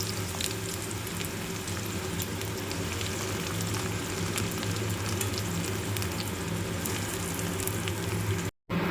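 Chopped onions sizzle and crackle steadily in hot oil with bay leaves, a dense, continuous frying hiss close up with no voices.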